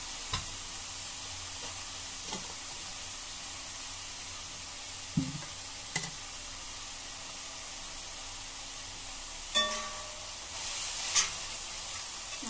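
Ingredients for Schezwan fried rice sauté quietly in a pan as a faint, steady hiss, with a few scattered knocks and clinks from stirring.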